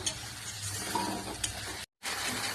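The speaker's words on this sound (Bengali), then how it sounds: "এবার এটা ভালো করে কষাতে হবে, নাহলে কাঁচা গন্ধটা যাবে না।" Spice paste with ginger sautés in oil for a katla fish curry, a close, steady sizzle with stirring scrapes that cuts out briefly near the end before resuming.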